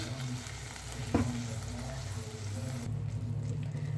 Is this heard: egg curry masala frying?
yes